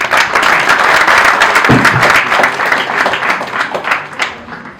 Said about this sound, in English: I would request everyone to please extend your appreciation with a sincere round of applause for all the parents present here.